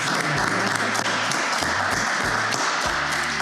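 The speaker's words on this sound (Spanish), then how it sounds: "Queremos agradecerte y darte este aplauso" Applause for a guest author on a literary program, continuous clapping at moderate volume with a low tonal hum and scattered thuds running beneath it.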